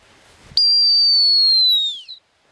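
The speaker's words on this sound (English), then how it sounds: "I stopped her on the whistle" A gun dog training whistle gives one sharp, loud, sustained high blast lasting over a second, then cuts off abruptly, with near silence around it.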